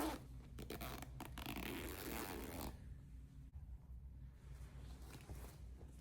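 A close zipper on a garment pocket rasps steadily for a few seconds, then stops, leaving quiet handling and light scraping.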